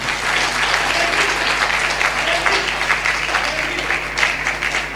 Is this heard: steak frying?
no